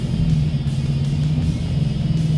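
A 2015 Mustang fitted with RideTech coilovers cruises along, its engine and road noise forming a steady, loud low rumble with no break.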